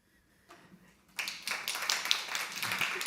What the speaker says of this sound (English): I hope you could hear the applause.